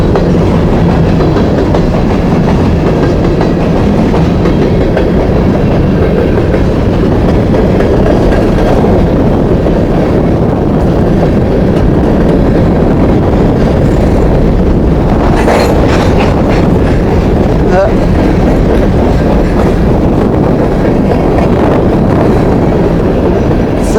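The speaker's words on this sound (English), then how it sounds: "As soon as the train clears the crossing, I gotta get going" A freight grain train rolls past a rail crossing in the small West Virginia town of Thurmond, producing a loud, continuous rumble with clattering wheels and wind buffeting the microphone throughout.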